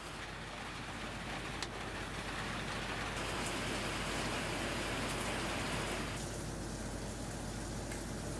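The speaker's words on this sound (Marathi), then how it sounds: "इथे धुमाकूळ आता सध्या पावसाचा सुरू आहे" Heavy monsoon rain pours steadily as a dense, continuous hiss of drops striking surfaces, with a few sharper splashes and no voices.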